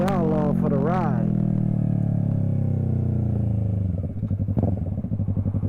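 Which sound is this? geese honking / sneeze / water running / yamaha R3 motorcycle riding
yamaha R3 motorcycle riding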